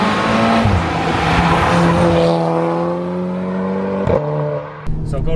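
A Volkswagen Golf R revs hard under full acceleration, its engine note climbing through the revs with a brief lift and crackle near the end, loud and close.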